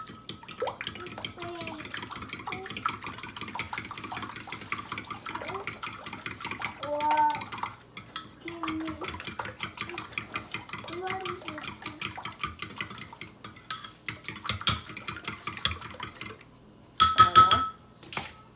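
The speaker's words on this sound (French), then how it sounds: "Vous tournez jusqu'à obtenir un mélange homogène." A spoon stirs beef pastel filling in a bowl, steady rhythmic scraping and clinking against the bowl, fairly close, with someone speaking at intervals.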